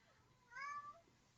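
Cat giving one short, faint meow, distinct over a quiet background.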